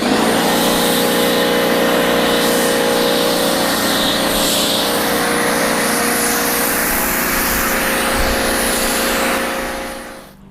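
A Repco Eclipse foam cannon sprays a thick stream of foam over a car. A loud, steady hiss runs with a droning pump motor, holds constant for about ten seconds and then fades out quickly, with no talking.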